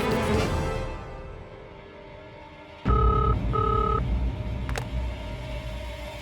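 Telephone dialed at home: a short run of electronic keypad beeps, two steady tones in a row and then a click, fairly clear over a dull room hum, with no talk during the dialing.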